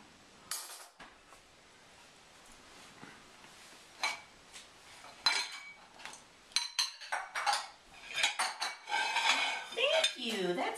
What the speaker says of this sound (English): It takes a long time to unload the dishwasher and you can only do one piece of silverware at a time.